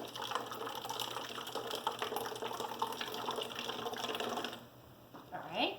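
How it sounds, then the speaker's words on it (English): Water pours steadily into a bottle with a continuous splashing gurgle, then tapers off and stops with a final trickle. "So about a quarter of the bottle is going to be filled with water."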